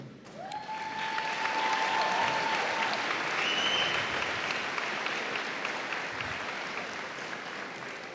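A crowd at a high school graduation ceremony breaks into applause, swelling quickly to a full, dense clapping that stays strong before slowly easing, with a brief whistle-like tone rising above the noise.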